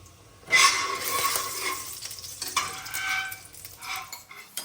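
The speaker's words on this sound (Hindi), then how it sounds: "यहाँ पे तो सब्जी उबल रही है और यहाँ मसाला" Vegetables boil in one pot while masala cooks in a pan on a home stove, heard as a close, steady sizzle with frequent stirring and light clinks of utensils against cookware.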